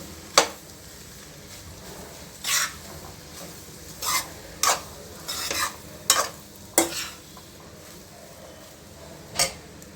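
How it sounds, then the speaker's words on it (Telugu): Rice noodles with coriander and mint being stirred in a hot pan: a low constant sizzle broken by about nine sharp, separate scrapes and taps of a spatula against the pan, spaced irregularly and close. "ఇప్పుడు కాసేపు కలుపుకోవాలి"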